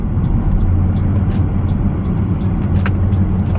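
Inside an Audi Q7 4.2 V8 TDI merging onto a motorway under gentle acceleration, a dense, loud low rumble of engine and tyres swells slightly, steady throughout with no voices.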